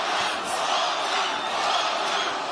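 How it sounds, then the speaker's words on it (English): Boxing arena crowd at Madison Square Garden during a Lomachenko vs Ortiz fight, a loud, sustained roar of cheering and shouting that fills the whole space without letup. "The crowd support this early in a Loma fight is almost unlike anything we've ever heard before."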